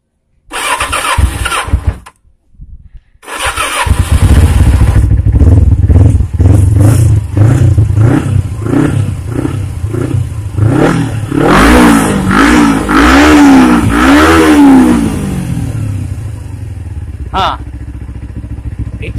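A 1995 Kawasaki ZZR 250 motorcycle cranks in brief bursts, then fires up loud and close, revving up and down several times before settling toward idle.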